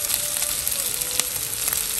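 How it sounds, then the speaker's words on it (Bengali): Thin-sliced, pounded and spiced meat fries in a mix of mustard and soybean oil, giving a steady, close, dense sizzle with small crackling pops throughout and no talk. "এখন হচ্ছে তেলে ভেজে নিতেছি, এখানে হালকা সরিষার তেল আর সয়াবিন তেল দুটোই আছে"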